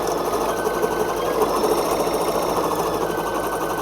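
An embroidery machine stitches the closing seam on a 3D teddy bear ear, a steady, loud, fast mechanical chatter running unbroken throughout with no talking.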